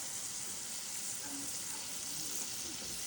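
Okra sizzles and fries steadily in a pan, a continuous bright crackling hiss with no voices over it.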